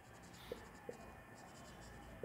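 Marker or chalk writing on a board during a Bengali math lesson, heard as three faint, sharp taps spaced apart over a steady low room hum.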